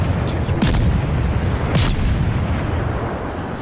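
A German tier 3 cruiser, the Kolberg, fires high-explosive shells in a naval battle video game: two heavy booming salvos about a second apart over a dense, rumbling battle din.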